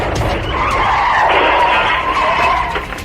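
A car skids in a horror audio drama, with a loud, sustained tire squeal that swells in the middle and lingers for about three seconds, close and dominant with no voices. No distinct crash is evident.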